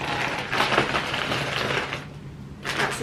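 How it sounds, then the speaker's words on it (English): Snack packets being handled, with bursts of crinkling and rustling plastic close by, a few short loud crackles separated by quieter moments. "That's the sound of my snacks."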